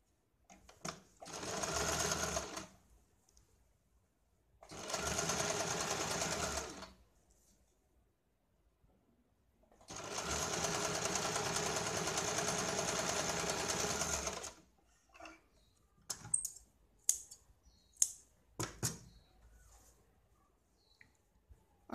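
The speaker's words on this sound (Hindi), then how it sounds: "पट्टी को हमें इस तरह से 1/2 इंच फोल्ड करके इसके ऊपर हम पहले सिलाई लगाएंगे।" A sewing machine stitches along a blouse strip folded half an inch, running in three steady whirring bursts with pauses between, followed by scattered light clicks and taps.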